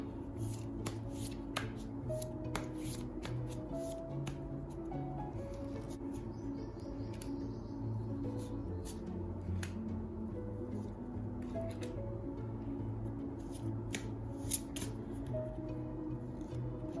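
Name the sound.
shuffling and picking tarot cards for a partner's reading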